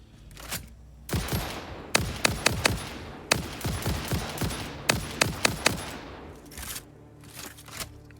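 Gunfire in the video game Satisfactory: sharp, separate shots in short bursts of two to four, loud and close, with gaps between volleys.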